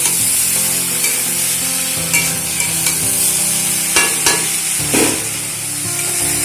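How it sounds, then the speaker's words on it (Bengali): Spinach stir-fried in mustard oil in a kadai gives a steady close sizzle, with scraping stirs and a few sharper clinks from the spatula against the pan, and no talking. "ওই কড়াইতেই একটু সরষের তেল দিয়ে পালং শাকগুলোকে একটু নাড়াচাড়া করে হালকা ভেজে নেব"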